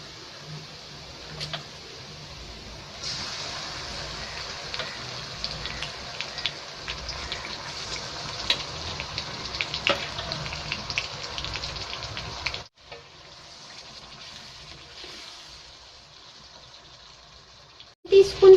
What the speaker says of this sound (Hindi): मैं इसमें चिकन ऐड कर रही हूँ जो मैंने मैरिनेशन के लिए रखा था।